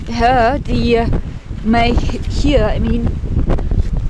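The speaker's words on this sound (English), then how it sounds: "incredible wind" Strong wind gusting across the desert in Joshua Tree National Park, a loud, steady blustery roar buffeting the microphone beneath a person talking close by.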